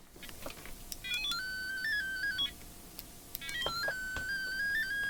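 A short-circuit detection probe gives high electronic beeps and warbling tones that chirp in short bursts, pausing and then resuming, over a faint background hiss.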